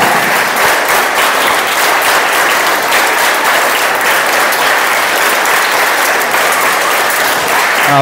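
Loud, sustained applause from a large group of schoolchildren at a government high school first aid awareness programme, a thick, even roar of clapping lasting the whole stretch with little talk.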